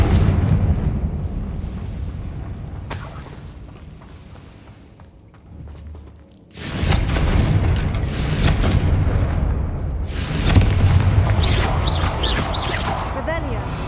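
A Confringo spell in Hogwarts Legacy bursts with a loud, broad booming blast around the midpoint, followed by sustained rumbling and crackling debris, layered over ongoing game ambience.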